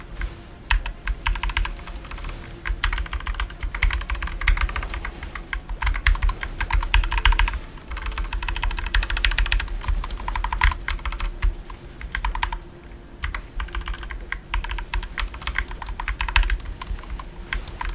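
Fast, continuous clatter of computer keys being typed during a game boss fight against Normal Damien, dense and steady throughout with no one speaking.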